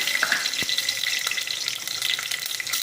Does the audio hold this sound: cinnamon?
yes